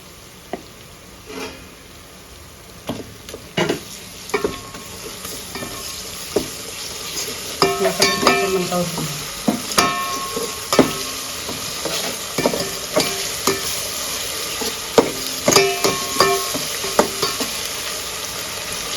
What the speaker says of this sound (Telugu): చూడండి ఇట్లా మనం వేసుకున్న మసాలాలన్నీ బాగా వేయించుకోవాలా